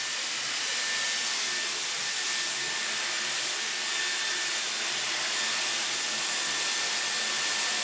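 A Dyson hair dryer blows with a loud, steady, breathy whoosh and a faint high whine, running continuously and close by with no talking.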